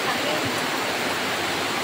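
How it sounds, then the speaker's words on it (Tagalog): Rain pouring down on a farm in the afternoon, a thick, even hiss of falling water that stays steady and close throughout a brief stretch. "Wow, ulan na diri sa mo guys."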